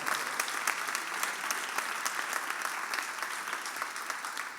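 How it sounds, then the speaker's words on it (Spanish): Church congregation applauding during a sermon, a steady dense wash of many hands clapping at moderate distance, even in level throughout with no voices standing out. "Dale un fuerte aplauso si es para Él"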